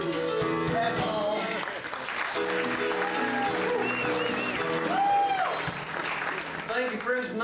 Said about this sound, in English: Appreciate the clapping.